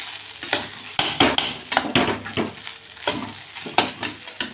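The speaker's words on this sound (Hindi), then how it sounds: "इसमें प्याज, लाल मिर्च और सरसों को ऑयल और चावल लेके सारे मिक्स करके तल लिए हैं।" Rice fried in mustard oil with onion and red chili, stirred in a pan: a steady close sizzle broken by repeated sharp scrapes and clinks of the spoon, with no talking.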